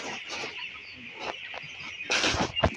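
Broiler chickens cluck on a poultry farm in a busy, continuous chorus of overlapping calls over a steady background hum, getting louder toward the end.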